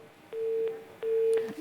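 A disconnected phone call line tone on a live broadcast call-in, sounding as two medium-loud, steady beeps of equal length separated by a short gap, over faint line hiss.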